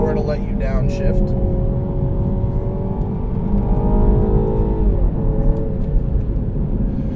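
A 2017 Mini Cooper S four-door with a JCW tune accelerates hard, its engine rising in pitch and changing as it shifts gears, loud and steady beneath a voice.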